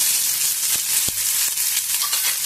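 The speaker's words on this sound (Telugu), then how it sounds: "ఇప్పుడు కాల్చి కాల్చి కట్ చేసి పెట్టుకున్నాం కదా ఈ ఉల్లిపాయలు కూడా వేసేద్దాము" Cut roasted onions fry in hot oil in a pan while cooking roasted eggplant curry, giving a steady close sizzle with a few soft stirring knocks.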